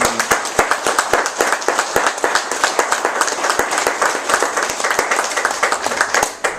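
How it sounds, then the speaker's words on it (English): A crowd applauds steadily throughout, dense overlapping claps with sharp individual hand claps standing out, loud and sustained for several seconds. "a big round of applause for these flag"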